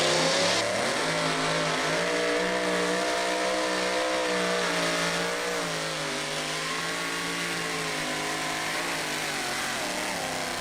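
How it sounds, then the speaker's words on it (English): A two-wheel-drive pulling truck at a county fair pull winds its engine up into a loud, continuous, close roar, the harmonic note wavering slightly and then holding steady for the whole stretch. "Our first two-wheel drive going to make some noise, going to want to cover those ears as we wind it up."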